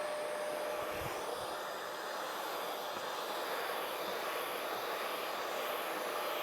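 A PrettyCare V3 cordless vacuum cleaner runs steadily with a constant airy whir and hiss, unchanging in level and close to the listener, with no talking.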